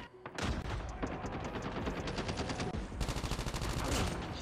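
Rapid bursts of automatic gunfire from a Type 25 rifle in the mobile shooter game Call of Duty Mobile, loud and close, with crackling volleys repeating in quick rhythm throughout.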